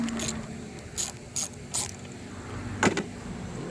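A ratchet wrench works loose a bolt on a Chevy Cruze 1.4L turbo engine, giving short bursts of clicking pawl at an uneven pace, fairly close and moderately loud with no talking.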